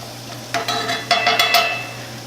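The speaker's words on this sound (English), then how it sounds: "I'm just gonna kind of stir this around just a little bit" Food being stirred around in a skillet, with soft scraping strokes and a faint sizzle under a steady low hum, close by and fairly quiet.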